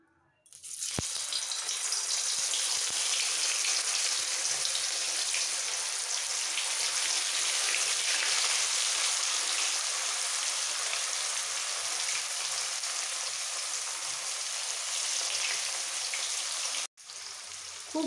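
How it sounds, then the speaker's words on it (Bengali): Paneer frying in a pan for a yogurt-based vegetarian palak paneer, a loud continuous sizzle that starts abruptly and holds steady throughout, briefly cutting out near the end. "পনিরটাকে আগে ভেজে তুলে নিতে হবে।"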